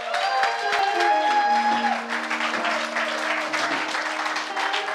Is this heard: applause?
yes